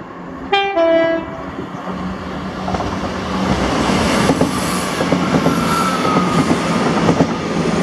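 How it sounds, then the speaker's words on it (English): ScotRail passenger train, the Glasgow Queen Street to Inverness service, passing Blair Atholl station, opening with a loud two-tone horn blast, then a sustained rumble of wheels with rhythmic clicks as carriages roll by close up. "this was 1H09, the 1559 ScotRail service to Inverness from Glasgow Queen Street."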